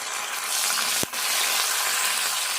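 Onions and curry leaves hit hot oil for a tomato and brinjal curry, giving a steady, close, loud sizzle with one brief dip as they go in, then continuous crackling frying.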